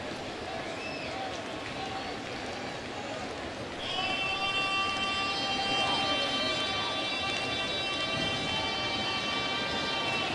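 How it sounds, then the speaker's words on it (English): A loud, sustained foghorn-style sound effect booms over a baseball stadium's crowd noise during a Rockies-Mets game, starting partway through and holding steady to the end, with an announcer talking over it. "Foghorn."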